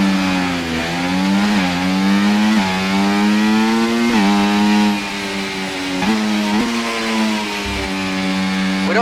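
The F1 24 race car idles and revs at the start of the 2025 Austrian Grand Prix, its engine pitch repeatedly dipping and climbing in a series of loud, steady blips.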